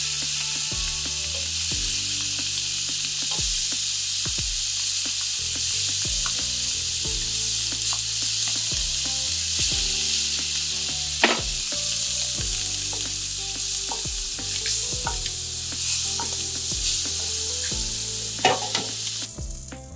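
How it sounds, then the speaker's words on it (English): Scallops searing in a hot pan give off a loud, steady, close sizzle that runs the whole time, with occasional small pops and the odd clink on top. "That's the sear you want on your scallops."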